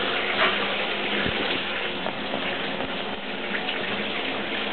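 Tap water running steadily while a kitten is rinsed during its first bath, a constant close gush with a few faint knocks and splashes, and no speech.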